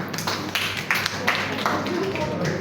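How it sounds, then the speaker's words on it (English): An audience claps in a university lecture hall, with a dense patter of many hands through the whole stretch, steady and moderately loud, with a few sharper claps standing out and a voice faintly beneath. "Good, you can clap."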